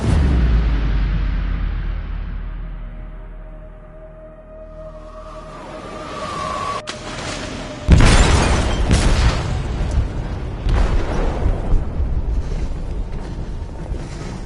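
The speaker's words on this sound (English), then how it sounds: "They detonated an explosive in the hold." An explosive detonated in a ship's hold in a video game, a heavy rumbling boom that surges partway through and leaves a sustained roar of debris and rolling noise, loud and close with no talk.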